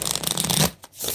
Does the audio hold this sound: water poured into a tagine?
no